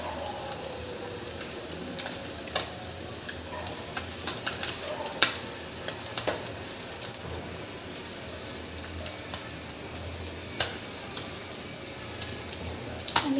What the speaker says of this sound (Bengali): দেখুন কি সুন্দর ভাজা হচ্ছে